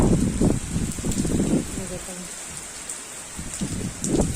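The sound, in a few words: rain falling, alternating heavy and light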